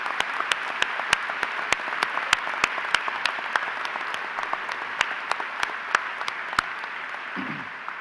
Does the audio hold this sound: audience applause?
yes